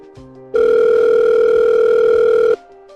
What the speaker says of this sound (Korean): 난 거기에 써있는 연락처로 바로 전화를 하게 되었어